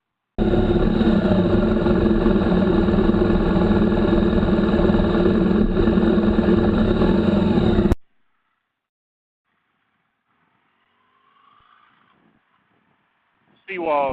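A motorcycle engine idles loudly and steadily up close for about eight seconds, then cuts off abruptly, leaving near silence with faint background noise and a brief voice at the end.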